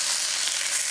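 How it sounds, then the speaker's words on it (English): Tilapia fillets pan frying in hot oil give a bright, steady sizzle, close and constant with no pauses. "We'll pan fry for just 15 to 20 seconds on this side to evaporate the rest of the liquid"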